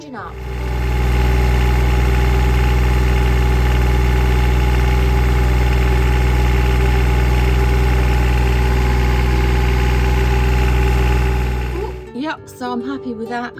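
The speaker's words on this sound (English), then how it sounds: "Water pump back on. Let's start the engine up." A sailboat's engine fires up and settles into a loud, steady idle with a deep droning vibration, then cuts out near the end.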